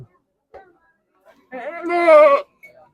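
A goat bleats loudly and close in a long wavering call at a livestock market where goats are being weighed and priced, with brief bits of talk before and after.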